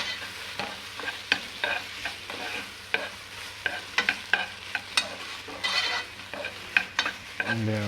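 Braised lamb sauce being stirred in a pan over just-below-medium heat, a steady series of scraping spoon strokes with a soft sizzle underneath, close and moderately loud, no talking.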